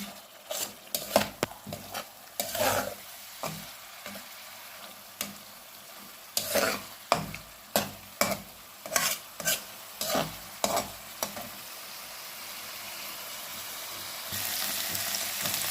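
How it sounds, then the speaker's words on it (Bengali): Rohu fish pieces fry with spices in a pan, a low sizzle broken by a run of sharp, regular scraping strokes of a spatula stirring, then a louder steady sizzle at the end; no voices. "মাছগুলোকে আমি একটু ভালো করে এই মশলার সাথে কষাবো।"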